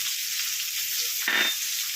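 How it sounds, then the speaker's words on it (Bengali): Chopped onions frying in hot oil with cloves and cumin, a loud, close, steady sizzle with a brief burst of stirring partway through. "দিয়ে একটু ভাজা ভাজা করে নিচ্ছি পেঁয়াজগুলোকে ভালো করে।"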